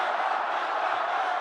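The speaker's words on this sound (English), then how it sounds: "The crowd chanting some old standbys" A crowd at a presidential rally chants together in a steady, dense roar that holds evenly throughout, with no single voice standing out.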